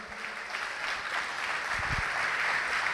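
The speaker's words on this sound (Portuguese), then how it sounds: "Vamos aplaudir o Senhor" Church congregation applauding during a sermon, a steady wash of many hands clapping at moderate volume throughout, with a few faint voices mixed in.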